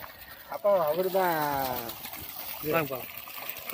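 Water gushes steadily from the 2-inch delivery pipe of a 7 hp solar pump running on a farm at low voltage. The constant rushing wash runs beneath a voice talking loudly over it.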